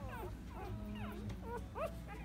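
A one-day-old Bernedoodle puppy in a litter gives a series of faint, high, squeaky whimpers and yips, repeated every half second or so against quiet background noise.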